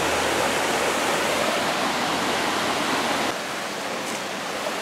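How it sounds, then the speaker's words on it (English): A waterfall at Goforth Creek roars in a loud, steady broadband rush, close and constant throughout with no voices over it. "Yeah, more falls. Very beautiful."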